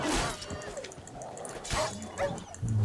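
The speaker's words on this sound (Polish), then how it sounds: "jakieś dzikie psy" Wild dogs in The Witcher 3: Wild Hunt bark, yip and whimper in quick bursts amid combat noise, with someone talking over the action.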